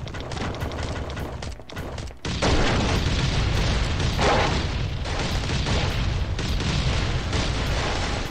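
A loud, continuous rumble of explosions and blasts in the video game Last Island of Survival, with a sharp break near the start before the roar surges back even louder and keeps going.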